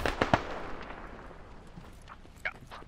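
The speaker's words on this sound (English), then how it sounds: "We got a nade in there." A grenade detonates in the Squad shooter game: a quick cluster of sharp, cracking bangs at the start, followed by a faint rumbling tail and a couple of distant pops, at low overall level with no talk.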